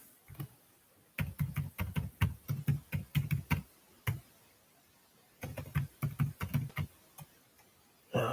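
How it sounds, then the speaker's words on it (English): Someone types a chat message on a computer keyboard in two close, quick bursts of crisp clicking keystrokes with a pause between them. No one speaks. "This is me typing in the chat, not my dad."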